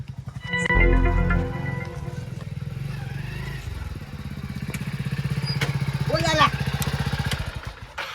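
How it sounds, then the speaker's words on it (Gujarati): A motorbike engine starts with a loud burst and then runs at a throbbing idle nearby for several seconds, its rhythmic chugging steady under brief bits of talk. "ત્યાં બાઈક લાયો."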